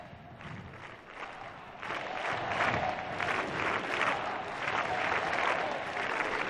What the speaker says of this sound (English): And we hear the crowds